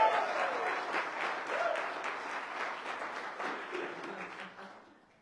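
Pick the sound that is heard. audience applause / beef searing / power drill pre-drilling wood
audience applause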